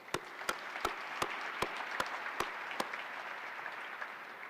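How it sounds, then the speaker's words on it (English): Sparse, sharp claps ring out in a steady rhythm, a handful of people applauding at a moderate distance. "Please give them a round of applause."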